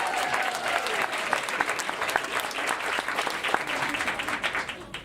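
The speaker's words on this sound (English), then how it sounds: "Kids, can we give Nash another round of applause?" A room of children applauds for several seconds, a dense patter of many small hands clapping at a press conference, with some voices mixed in.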